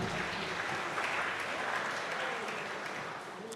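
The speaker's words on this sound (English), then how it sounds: "go ahead and give her a round of applause as she makes her way up" A chapel audience gives a steady round of applause as a woman walks up to speak, a dense, even wash of clapping heard from within the room, holding level then easing slightly.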